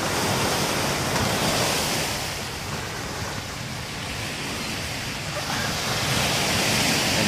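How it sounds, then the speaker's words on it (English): Ocean surf washes onto a beach at sunset in a broad, loud, steady roar that swells, eases slightly in the middle and builds again, with some wind buffeting and no talk. "there's the sun going down on the beautiful ocean"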